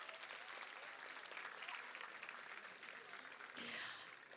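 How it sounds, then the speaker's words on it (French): Audience of high-school students applauding at a literary prize ceremony at a book festival in Paris, a steady dense wash of clapping that swells louder near the end, with no talk over it. "Vous pouvez vous applaudir déjà,"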